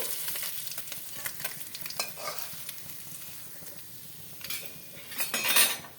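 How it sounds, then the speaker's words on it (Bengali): Amodi fish fry in oil in a pan, a loud close sizzle broken by repeated spatula scrapes and metallic clinks against the pan, with a sharper burst of spitting near the end and no voices. "বাকি মাছগুলো ভেজে নেব"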